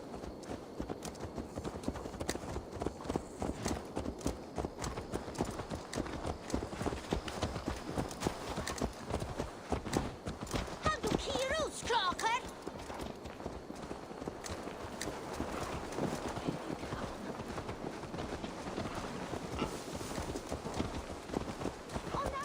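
A horse's hooves clip-clop steadily in the video game Assassin's Creed Valhalla, a dense rhythmic patter of footfalls running throughout, with game voices and background ambience mixed underneath.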